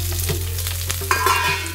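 Chana dal, tamarind and chillies sauté in a pan with a steady close sizzle and faint stirring scrapes throughout, with no talk.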